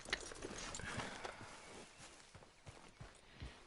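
A horse in Red Dead Redemption 2 clip-clopping with soft, irregular hoof thuds, quiet and close, under low background ambience.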